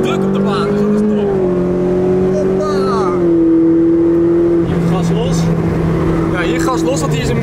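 A Ferrari engine drones steadily and loudly on a race circuit, its pitch shifting as it changes gear and speed, while someone talks over it in Dutch.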